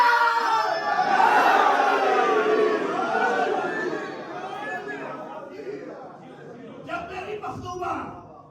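A large crowd at a Muharram majlis raises slogans together, a loud surging mass of voices that swells in the first few seconds and then gradually eases into softer, scattered shouting.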